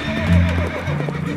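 A horse neighs loudly in a single close whinny sound effect within a narrated comic, a short rising-and-falling call with faint clip-clop underneath.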